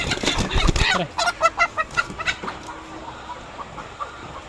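A large flock of chickens unloaded from two trucks clucks in a dense cluster of bursts, loud at first and then a steady rhythmic series of squawks fading into a busy background.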